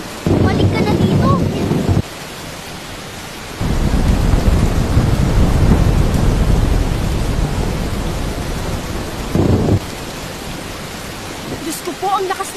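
Heavy rain pours in a thunderstorm with a steady loud roar and low rumbling surges, wind buffeting throughout, while a voice speaks over the downpour.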